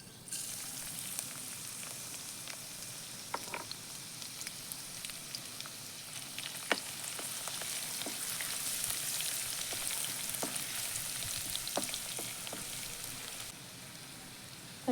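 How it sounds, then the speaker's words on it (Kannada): Crushed garlic frying in oil in a pan, a steady soft sizzle with scattered crackles and pops throughout, no voices. "ಮೊದಲಿಗೆ ನಾನು ಜಜ್ಜಿಟ್ಟಿರುವಂಥ ಬೆಳ್ಳುಳ್ಳಿಯನ್ನು ಹಾಕ್ಕೊಳ್ತಾ ಇದ್ದೀನಿ."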